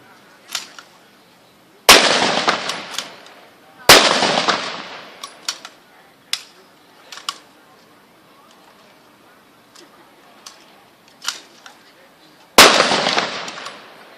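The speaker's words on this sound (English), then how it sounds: "Sometimes these blanks are a little finicky." Rifles fire blank rounds in an outdoor demonstration at Freedom Plaza, with four sharp, loud reports spaced a few seconds apart, each echoing off, and someone talking between shots.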